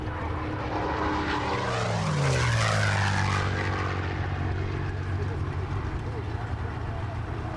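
A Supermarine Spitfire Mark 9 roars past on a low pass, its propeller engine rising to a loud peak and then fading into a steady drone, while a voice speaks over it.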